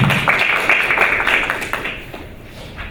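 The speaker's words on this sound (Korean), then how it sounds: "큰 박수 부탁드립니다." An audience at a university innovation forum session applauds, a dense run of many hands clapping that is loud at first and then thins and fades toward the end.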